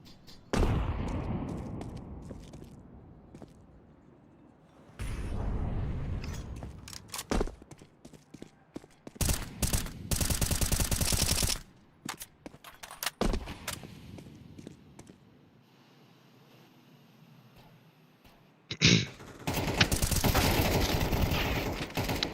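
Counter-Strike tournament match gunfire, bursts of rapid shots and heavier blasts in clustered volleys separated by quieter gaps with faint movement, loud and dense at peaks.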